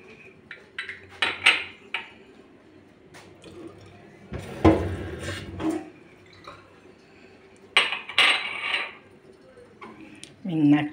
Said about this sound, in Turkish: Çayımı dolduruyorum.